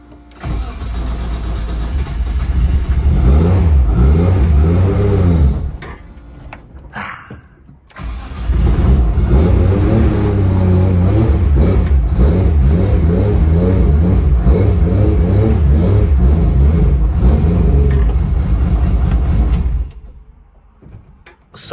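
Cold start of a 400 kW Nissan R33 drift car, with the engine catching and idling roughly, then loud sustained running with blips of revving. It dips briefly midway, picks up again and cuts off near the end.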